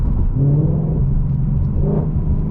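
A modified 2018 Ford Mustang GT engine rumbles low and close in fifth gear, with its pitch shifting briefly as the automatic transmission changes gear.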